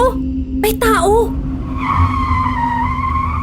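Car tires skid and squeal under sudden hard braking, a loud sustained screech that rises over road noise and lasts a couple of seconds after brief voice sounds.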